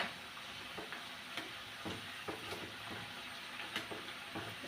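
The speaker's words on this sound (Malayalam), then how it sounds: "ഞാൻ ഒന്ന് ഇളക്കി നോക്കാം ആ മൂത്ത് വരുന്നുണ്ട്" Potato samosa filling sizzles and fries in a pan, with steady hissing and a series of soft, irregular scraping clicks as it is stirred.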